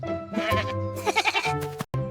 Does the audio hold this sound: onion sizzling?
no